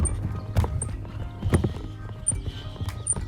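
Horses clip-clop with their hooves in a farmyard as they are about to be fed, sharp irregular knocks ringing out over a low rumbling background, with faint high chirps scattered throughout.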